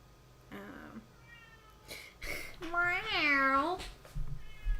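A cat meows a few times, one long rising-and-falling meow loudest near the middle, with shorter calls around it and people talking in between.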